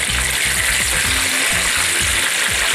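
Chicken schnitzel fries in a pan with a steady, loud sizzle and crackle of hot oil, close up and continuous throughout, with no talking.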